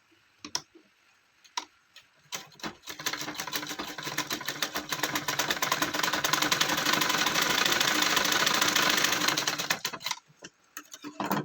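A sewing machine stitches a seam on a gown for a three-year-old, beginning with a few scattered clicks, then running one steady rapid clatter for about seven seconds before stopping, close up with no voices.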